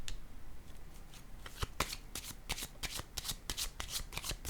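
Tarot-style cards are shuffled and dealt for a Scorpio reading, giving a series of crisp riffling snaps and flicks that come quicker in the second half, close and fairly quiet with no voice over them.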